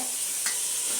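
Potatoes tossed into a frying pan set off a brief steady sizzle with a faint stir, all in about a second, with no talking.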